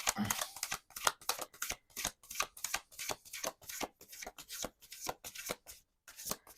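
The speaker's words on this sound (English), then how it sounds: "These cards are so slippery. They're really difficult to shuffle." Slippery tarot reading cards are shuffled by hand at close range, a quick run of crisp riffling bursts in a steady rhythm with a short pause near the end.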